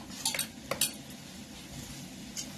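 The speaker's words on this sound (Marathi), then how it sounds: "आणि हे मिश्रण आता चांगलं हलवायचं" Ground onion paste is stirred into a kofta mixture in a pan, with quiet scraping and a few metallic clinks of a spoon against the pan over a faint background sizzle.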